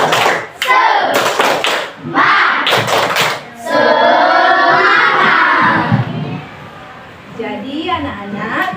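Children in a primary school classroom doing the rhythmic tepuk semangat spirit clap, a loud burst of patterned claps and thumps mixed with shouted chanting voices, with a teacher's voice speaking in between.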